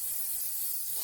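Hairspray hisses from an aerosol can onto a small boutique hair bow, a steady close spray lasting about a second with no talk.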